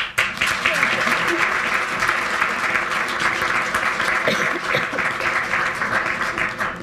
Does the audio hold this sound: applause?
yes